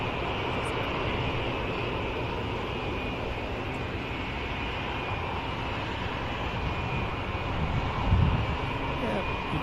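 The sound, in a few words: P-47 aircraft engine at air show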